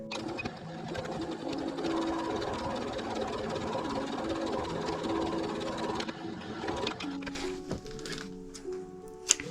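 A sewing machine runs steadily, stitching a 1 cm seam through the lining of a tulip-style handmade bag, its motor whirring and needle clattering continuously before slowing into brief stop-start bursts near the end.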